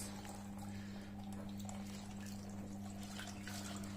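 Water poured over a dog during a bath, a steady close splashing and trickling wash over a constant low hum, with no talk.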